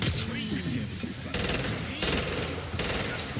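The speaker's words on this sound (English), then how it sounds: "He's shooting me." Enemy gunfire in the video game Killing Floor 2, dense bursts of rapid shots with three sharp loud onsets over a constant roar of chaotic combat noise.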